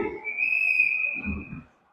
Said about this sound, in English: Whistle blows because puck went up over the net again and out of play